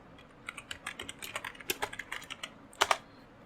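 Someone types the words "business card" on a computer keyboard: a short, quick run of crisp keystrokes, close and clear with no voices, ending in a couple of firmer taps.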